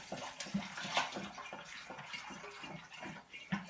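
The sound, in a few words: mead mixture being poured into a fermenter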